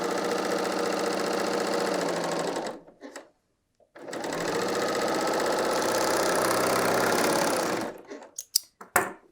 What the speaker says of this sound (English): just align it with my needle, slide it under, and sew.